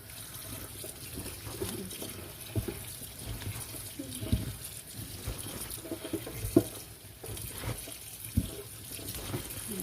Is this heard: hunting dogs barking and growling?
no